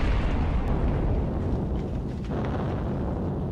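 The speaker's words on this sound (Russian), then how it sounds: "Слышна беспрерывная стрельба из пушек." Artillery cannon fire from the 1942 fighting at Rzhev rumbles from far off as a dense, continuous low booming with no distinct separate blasts.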